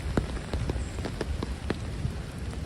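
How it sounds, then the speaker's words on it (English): Rain pours down in New York's Central Park, a constant close hiss of drops striking wet surfaces, punctuated by a few louder splashes, with nobody speaking. "Welcome to Central Park in the rain"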